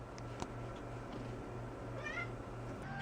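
A cat meows near a window, several calls in a row, close and fairly loud over a steady low household hum.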